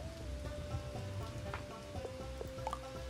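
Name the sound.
rain falling in the video game Bugsnax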